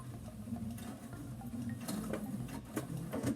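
A sewing machine runs a straight stitch on fabric, giving a quiet continuous mechanical whir with light rapid ticking and a few small knocks, heard close and alone.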